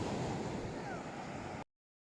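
Steady wash of sea waves at the shore, heard from out on the sea, a continuous rushing roar with wind buffeting the microphone, ending abruptly.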